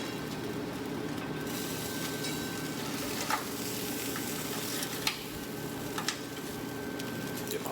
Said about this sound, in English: Oh yeah, pork looks really good. It's sizzling.